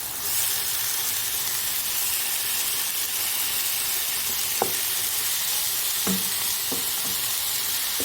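Spiced chicken for shawarma sizzles in a hot frying pan, a loud, steady hiss of frying broken by a few sharp clinks and scrapes of a utensil or lid, with no voices.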